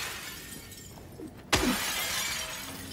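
In Silent Hill 2 Remake, a single sharp shattering smash of a breakable object bursts out loud and close, followed by scattering debris over a low, steady ambient hum.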